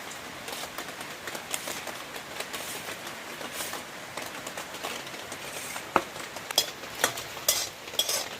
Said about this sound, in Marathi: तर आता मी कढई ठेवलेली आहे त्याच्यामध्ये हे खोबरं घालते